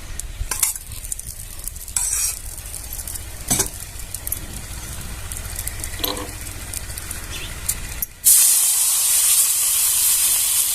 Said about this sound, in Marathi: आता आपण ही भाकरी काढून घेऊया आणि दुसरी भाकर टाकून घेऊया इथे लगेच गॅस कमी करायचा आहे तेल फिरवून घ्यायचं आहे